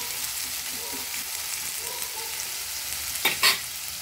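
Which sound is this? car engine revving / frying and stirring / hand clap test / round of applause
frying and stirring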